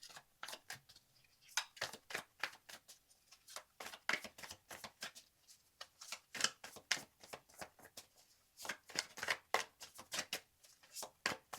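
Tarot cards being shuffled by hand in a steady run of quick crisp riffling bursts, close and fairly quiet, with no talking.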